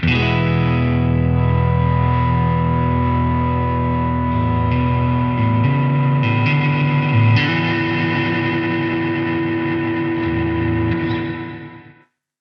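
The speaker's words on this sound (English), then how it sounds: "if I play a chord on the spring reverb and I hold that foot switch down" A sustained distorted guitar chord rings out through the washy, drenched spring reverb of a NUX Atlantic pedal, swelling and shimmering for several seconds before fading away.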